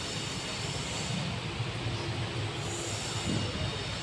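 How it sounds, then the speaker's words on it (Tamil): A nearly empty Kanniyakumari–Tirunelveli passenger train runs along steadily, a broad rumble with rail noise and a faint wheel squeal, heard from close inside and continuous throughout, with no voices. "காலியான ஒரு வண்டி கன்னியாகுமரி டு திருநெல்வேலி வரைக்கும்"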